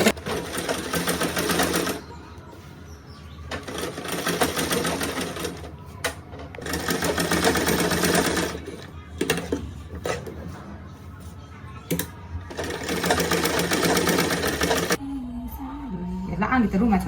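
A sewing machine stitches a long sleeve kurti in steady loud bursts of rapid rattling, stopping and starting several times, with someone talking quietly in the pauses.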